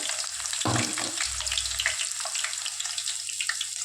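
Onions and curry leaves fry in oil with a soft, continuous sizzle, joined briefly by a knock and running-water-like hiss, fairly close and steady.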